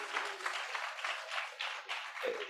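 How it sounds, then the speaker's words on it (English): Audience at a business leaders' summit applauding, a dense continuous patter of many hands clapping at moderate distance, holding steady for the whole stretch. "A round of applause for Kevin."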